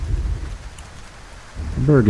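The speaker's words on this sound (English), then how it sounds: "I love having rain in Kerbal Space Program." Rain and thunderstorm weather in Kerbal Space Program, a steady low rumbling wash of rain with thunder-like swells, rising in loudness near the end as a voice begins to talk over it.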